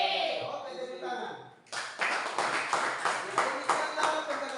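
A school class of students clapping together, a burst of scattered, rhythmic hand claps starting after a brief murmur of voices and continuing steadily nearby for several seconds.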